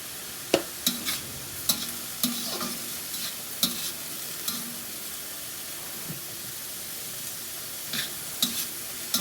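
Food cooking in an open pan with turmeric added is stirred with a utensil, sending sharp scrapes and clicks at uneven intervals over a faint background sizzle.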